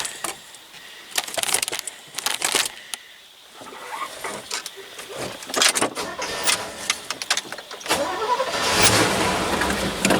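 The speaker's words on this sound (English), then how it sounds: "This is my one ton Chevy dump truck" A one-ton Chevy dump truck fitted with an Eldorado carburetor cranks over and fires up, with clicks and clatter at first, then a rough engine running nearby, fairly quiet and uneven.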